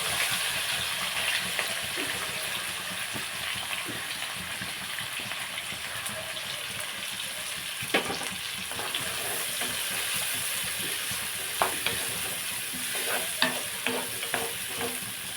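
Onions and green chillies frying in a pan for cashew coriander chicken curry, a long, even sizzle with occasional scraping and clinking of a stirring spoon, close and steady without talk.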